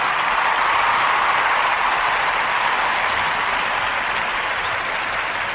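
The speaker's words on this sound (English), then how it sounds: "Round of applause." Dense, steady applause from an audience runs evenly throughout with no talking over it.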